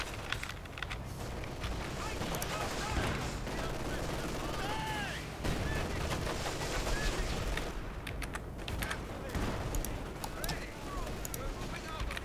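Bursts of gunfire and explosions from bombing in a Company of Heroes 3v3 battle with Soviets, a dense and continuous barrage of rattling shots and booms running throughout, with a voice talking over it at times.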